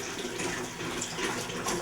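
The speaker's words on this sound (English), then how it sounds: "then I'll add water to the condenser" Tap water runs steadily into a distillation still's condenser, a continuous close splashing, gushing pour with no voices.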